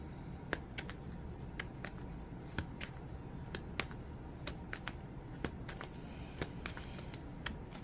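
Tarot cards being shuffled and drawn during a twin flame reading, giving soft steady papery riffling with brisk sharp card snaps scattered throughout, close and fairly quiet with no talking.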